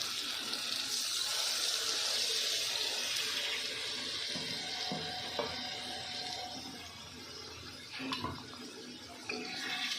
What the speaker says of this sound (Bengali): এবার একটু উষ্ণ গরম জল দিয়ে দেব